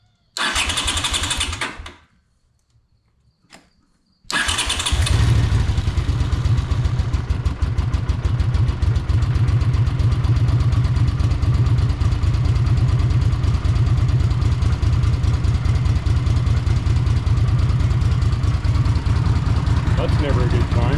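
Honda GL500 motorcycle engine after a carburetor rebuild, a brief cranking burst, a short pause, then it fires and settles into a steady, loud, close idle that runs on unbroken.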